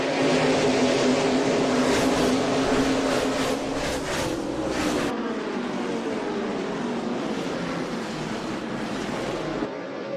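A pack of NASCAR Cup Series stock cars roars into the race start at Gateway as the pace car peels off. A dense, loud engine drone fills the whole stretch, its pitch sweeping as the cars pass and then easing off slightly.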